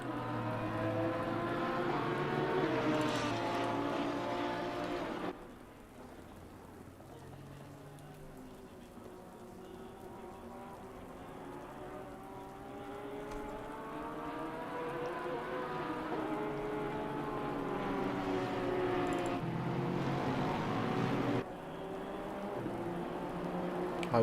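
Rain-soaked racing in a sim racing game at Barcelona: an Acura NSX GT race car's engine whines up and down through gears over a steady hiss of rain spray, loud and continuous.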